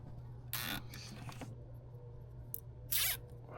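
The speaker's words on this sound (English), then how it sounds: "I'm just gonna zip tie to my wiring harness right here." A zip tie ratchets tight around a wiring harness during a hood solar panel install, giving two short, bright zipping bursts separated by a pause, with faint handling clicks over a steady low hum.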